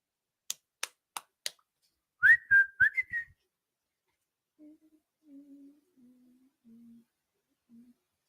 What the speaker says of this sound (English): The Dutch official blows his whistle